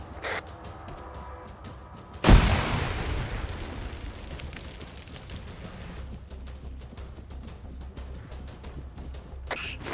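A single loud orbital autocannon strike in a video game hits abruptly, a broad boom whose rumbling roar decays over several seconds into steady background noise, with faint ticking effects around it.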